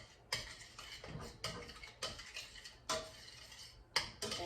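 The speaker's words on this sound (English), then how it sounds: "And then stir that up." A spoon stirs a honey topping in a bowl, giving a series of sharp, close clinks against the bowl at an uneven rhythm roughly every half second, with no talking.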